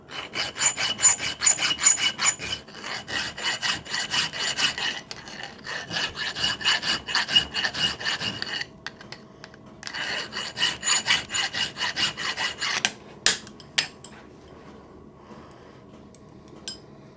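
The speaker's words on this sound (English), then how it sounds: "Just a case of filing a square in it now." Hand-filing a square hole in a metal part of a cylinder drain valve linkage, steady close rasping strokes in long runs with brief pauses, ending in a few clinks.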